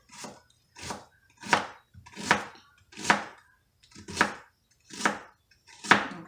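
A kitchen knife chops through an onion on a cutting board in eight crisp, evenly spaced strikes, each a sharp close thud, with near silence between them and no talking.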